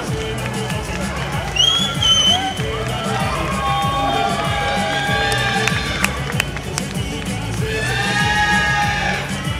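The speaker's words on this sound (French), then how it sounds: "Allez, on les applaudit bien fort, on les remercie" Loud, sustained crowd noise from an audience at a Musclemania bodybuilding competition in Paris, with cheering, whoops and whistles over steady hubbub throughout.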